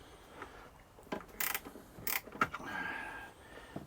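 Tools work the negative terminals off batteries in a camper during a lithium battery upgrade, giving a few close, faint metallic clicks and scrapes with a short creaking rasp.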